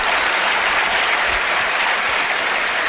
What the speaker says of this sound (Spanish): pido un aplauso para ellos dos